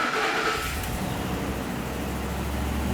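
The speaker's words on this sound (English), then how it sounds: "And now let's start up the truck." A 2009-2014 Ford F-150 pickup engine starts after a fuel injector replacement and settles into a steady, low idle that continues throughout, heard close by at moderate volume.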